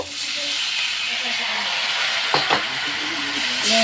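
Spices with turmeric sizzle loudly in a hot pan as a little water goes in for a prawn and ol stalk curry. A steady close hiss runs throughout, with a brief clatter near the middle.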